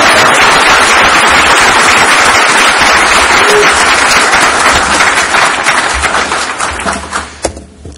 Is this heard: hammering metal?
no